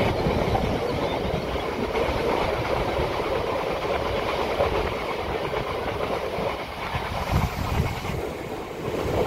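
Steady rumble and clickety-clack of a MEMU local train running from Vijayawada toward Machilipatnam, heard from inside as a continuous, moderately loud rolling noise with rhythmic wheel beats and no voices.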